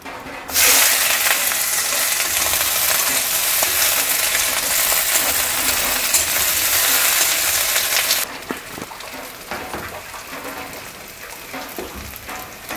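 Onion dropped into hot oil with mustard seeds in a pan, a loud, close, steady sizzle that bursts in suddenly and then settles to a softer crackle with a few stirring clinks, no talking.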